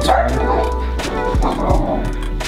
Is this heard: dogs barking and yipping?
yes